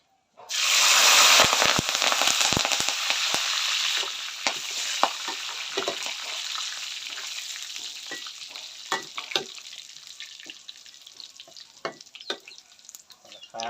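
Garlic and kaffir lime leaves fry in hot oil for laab moo, a loud burst of sizzling that settles into steady crackling with scattered pops and stirring clinks.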